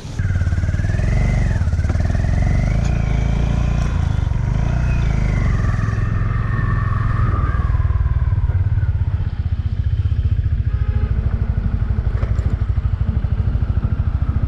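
A Honda Highness motorcycle engine runs nearby in the mountains with a steady low throb and rattling texture, alongside some wind and background noise.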